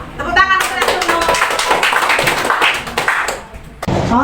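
Children in a classroom clap for a group's Neptune presentation, a brisk burst of clustered hand claps close by, mixed with chatter and a voice near the start and end.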